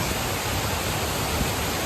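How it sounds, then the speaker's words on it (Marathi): Bhaje waterfall in Maval near Pune, a constant dense roar of falling water, loud and close, with no breaks. "आपण पाहत आहोत भाजे धबधबा"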